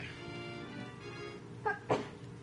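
A person gives two quick sneezes close by, one right after the other, short and sharp over a low background hum.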